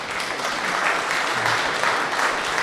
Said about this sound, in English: maybe give John and Simon an applause.